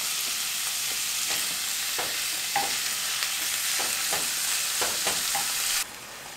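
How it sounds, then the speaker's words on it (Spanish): Beef steak sizzles steadily in a hot pan, a loud continuous frying hiss with a few faint clicks and stirring taps, ending abruptly in a slightly quieter sizzle, and no one speaks. "Y vamos a dejar este bistec a que se dore"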